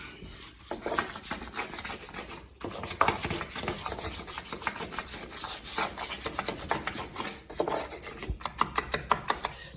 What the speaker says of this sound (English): Take the track brush, get in there and give it a really good scrub.